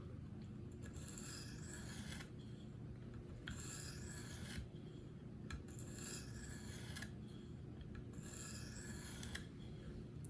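A Gerber Paralite knife blade is drawn over a KME sharpener stone in four even, rasping strokes with short pauses between them, set against a steady low hum.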